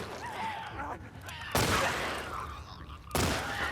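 Gunshots fired at infected enemies in The Last of Us Part II, with sharp loud blasts standing out over a dense layer of game ambience and noise.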